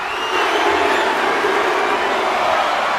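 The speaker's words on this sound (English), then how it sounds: "You hear the crowd asking for it one more time." A wrestling crowd at a live Monday night show fills the space with a steady, loud wash of massed voices, a continuous roar that reads as chanting spread through the arena.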